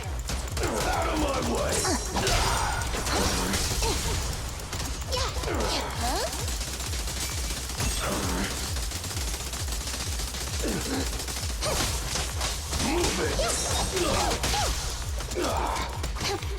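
Sustained gunfire bursts and crashes from the Zenless Zone Zero video game fill the mix continuously, with a person's voice, sighs and gasps layered over the combat.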